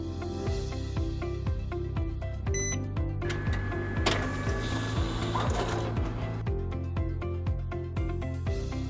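A printer running a job sent from a smartphone, with repeated rhythmic mechanical clacks and whirs of the paper feed and print head, close and steady throughout.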